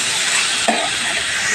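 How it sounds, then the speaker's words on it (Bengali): Rice frying in hot oil for pulao makes a dense, steady hiss, broken once by a short scrape of stirring, close and with no talk. "এবার চালটা বেশ ভালো করে কষিয়ে নেব।"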